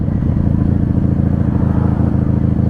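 A 1995 Honda Magna V45 VF750C, a third-generation chain-drive V4 cruiser, riding at night with a loud, close, steady throbbing engine rumble and a rapid even pulse.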